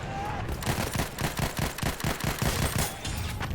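Rapid bursts of automatic gunfire in Battlefield 1, a dense rhythmic rattle of close shots fired in quick succession, loud and alone.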